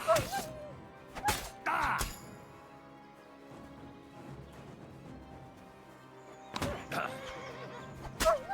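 A horse in the medieval game Kingdom Come: Deliverance II neighs and whinnies in sharp bursts near the start and again near the end, with clip-clopping hoof thuds and a few whacks in between, fairly close.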